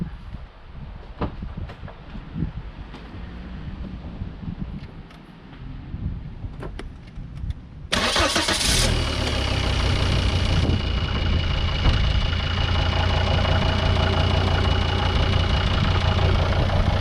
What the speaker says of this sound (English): I'll start this engine up and you can see what it's like